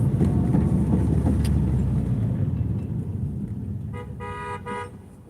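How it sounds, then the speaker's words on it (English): Car horns honking in Bronx traffic in New York City: a loud rumble of engines and honks that fades, then a few short, sharp horn toots near the end, with no talking. "This guy here thinks they're honking the horn. Makes traffic move."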